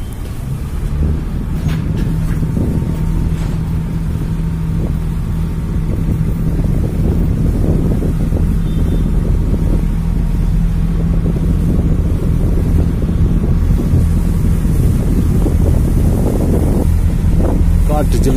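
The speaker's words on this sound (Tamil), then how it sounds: "காற்று ஜிலு ஜிலு ஜிலு ஜிலு ஜிலுன்னு வருது." Strong wind roars steadily across the microphone during a ride on a government boat at Alappuzha, with a low engine rumble and water noise beneath; the loud blustery noise is continuous throughout.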